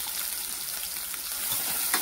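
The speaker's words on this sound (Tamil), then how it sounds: "இந்த பெரிய வெங்காயத்தை ஒரு 2 நிமிஷம் வதக்கி விட்டுருங்க" Sliced big onion sautéing in oil in a pan for red capsicum chutney, a steady close hiss of frying with faint stirring scrapes throughout.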